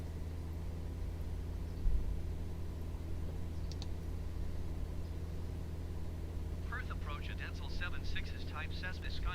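In a flight simulator game, a Cessna Skyhawk engine drones steadily and quietly throughout, and a brief burst of garbled radio-like voice comes in near the end.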